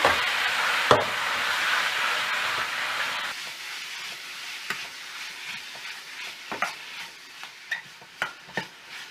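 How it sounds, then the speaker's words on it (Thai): Pork belly stir-fries in garlic oil over medium heat. A loud hiss rises as the pork hits the pan, then eases into a softer sizzle broken by clicks and scrapes from stirring. "จากนั้นก็ใส่หมูลงไปผัดเลยค่ะ ผัดให้พอตึงๆนะคะ"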